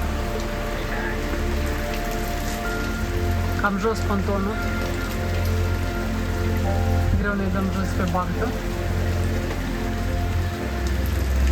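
Steady rain falls across Gaios harbour on Paxos at high tide, a continuous broadband hiss with a low rumble underneath, while people talk briefly in the foreground.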